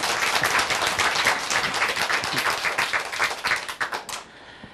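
An audience claps in a brisk, crowded burst of applause at a folk storytelling talk, staying fairly even before fading out abruptly near the end.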